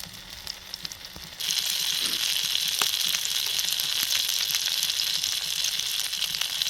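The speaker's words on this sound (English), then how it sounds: "if you look at the colour of that sausage and so on, it's frying it nicely" Sausages and black pudding frying in a pan on a Trangia camping stove, a steady loud sizzle that jumps up sharply after a quieter start and then hisses on without a break.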